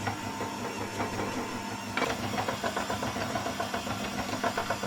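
An electric mixer blends eggs into a lemon and lime Christmas pudding mix, a steady continuous motor whir with some rattling, running loud and close with no speech.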